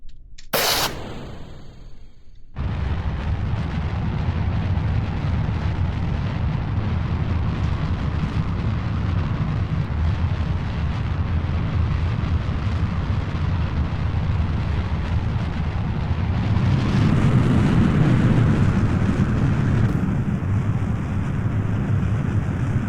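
A rocket engine roars in Kerbal Space Program, a sustained broadband rumble that fills the whole stretch after a brief sharp start, swelling louder near the end, with no talking.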